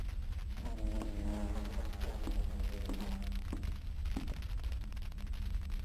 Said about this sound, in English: it's like I hear the buzzing